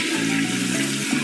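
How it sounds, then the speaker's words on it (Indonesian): Water pours steadily into a toilet bowl as it is rinsed, a continuous close splashing rush with no voices. "Kita bilas airnya."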